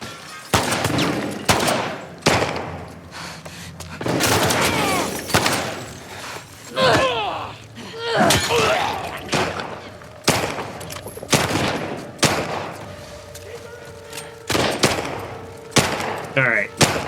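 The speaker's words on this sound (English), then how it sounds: "Who is shooting?" Repeated gunfire in The Last of Us Part II, set in Seattle: sharp shots and bursts arriving every second or two over the full stretch, mixed with excited talking between the volleys.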